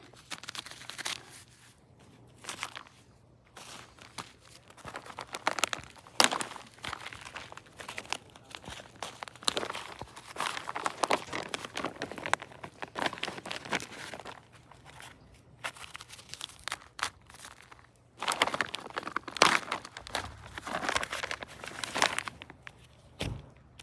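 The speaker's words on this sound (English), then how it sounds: "I just open up the mulch in a bigger circle than we need and get the plastic out" Buried plastic sheeting is pulled from beneath garden mulch while planting rhododendrons and a cedar, giving irregular bursts of close crinkling, tearing and crunching with short quiet gaps.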